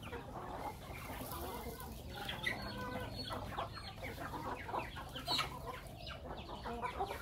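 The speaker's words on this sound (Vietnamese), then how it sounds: "Gà vô ăn đi." Chickens in a home garden in Di Linh cluck while being fed corn and rice, a faint, busy flock murmur with scattered peeps over constant background noise.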